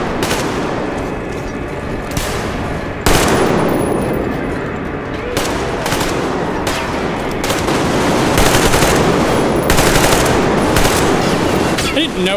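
Rapid, loud gunfire from Metro Exodus combat rattles in bursts and single cracks throughout, layered over a dense rumbling background with no clear gaps.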